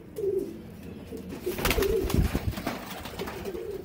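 Several pigeons coo softly nearby in a loft of Sialkoti pigeons, repeated low throaty calls with some flutter and rustling, and no talking.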